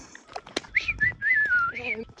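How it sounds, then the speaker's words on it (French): A person whistles a wavering, sliding tune at night at a campsite, with short gaps between phrases and faint background noise; the whistling is close and fairly clear. "Qui sifflote dans la nuit à minuit 30 dans un camping genre."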